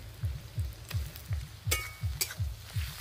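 Chopped onion and garlic paste frying in a pan, heard as steady sizzling crackle with a regular series of scraping stirs, about eight strokes in rhythm, close and moderately loud.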